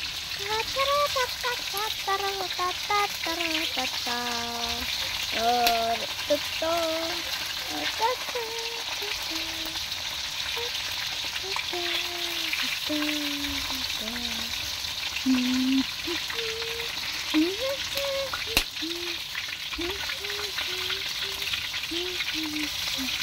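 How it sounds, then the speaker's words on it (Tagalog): Steady hiss and crackle of food frying in a hot pan runs throughout, with people talking and singing over it. "Ito na akong prito."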